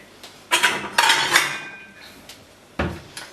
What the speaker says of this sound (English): we want a bowl to go on top of this pan